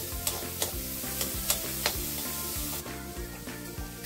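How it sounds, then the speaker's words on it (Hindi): Carrots and onion sauté in a pan with a steady sizzle, while a spoon scrapes and taps the pan in a regular stirring rhythm, close and without voices. "और इसे थोड़ी देर भून लूंगी।"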